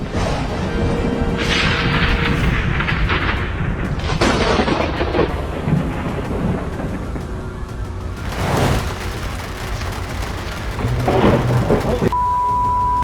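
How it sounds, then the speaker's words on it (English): Thunder from repeated lightning strikes on a street lamppost, heavy booming crashes and rolling rumbles over steady rain-like hiss, with several sharp loud bursts spaced across the clip and voices reacting between them. "11 strikes, 1 lamppost, lightning does not strike twice."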